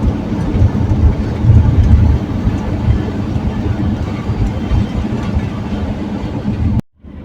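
A Volkswagen T4 2.4 van tows a trailer on the road, its engine and tyres making a loud, steady low rumble that drones on without a break before cutting off abruptly near the end.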